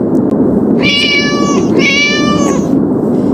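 Two clear, drawn-out cat meows in a row from a Warrior Cats video game, loud and close, over a steady background hum with no talking.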